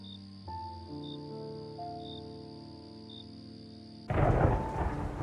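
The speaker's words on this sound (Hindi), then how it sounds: "उस रात अचानक तेज बारिश शुरू हो गई।" In a cartoon story, a low, steady tonal hum with faint insect chirps, then a sudden loud burst of thunder and heavy rain roars in for the last second.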